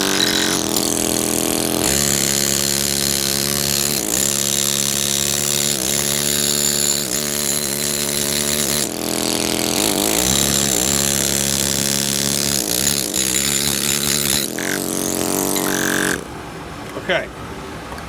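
A loud power tool grinds steadily through the corner of a granite block for about sixteen seconds, with brief dips in pitch as it bites, then cuts off, leaving a short quiet stretch.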